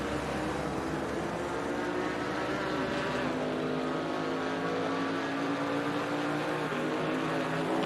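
Camaro race car engine in the Simufur GT4 racing game, a continuous loud buzzing drone with shifting revs as cars run close together, no voices.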